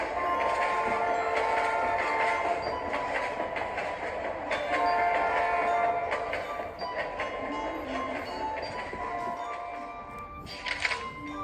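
A train runs along a railway with a steady, continuous rumble and rattle that stays loud throughout, with a brief higher hiss or squeal near the end.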